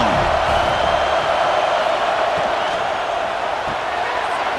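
Stadium crowd roaring in EA College Football 26 during a Tennessee Volunteers vs Georgia Bulldogs game, a dense sustained wash of cheering, loud and steady throughout, with a commentator's voice talking over it.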